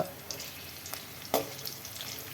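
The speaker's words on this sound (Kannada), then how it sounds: "ಕಡಲೆಬೇಳೆ ಮತ್ತು ಉದ್ದಿನ ಬೇಳೆ ಅದನ್ನು ಅಷ್ಟು ಆ ಎಣ್ಣೆಗೆ ಹಾಕೋತಾ ಇದ್ದೀನಿ" Chana dal, urad dal and green chillies frying in hot oil for oggarane rice, a quiet continuous sizzle broken by a few soft clicks and one louder scrape, with no voices.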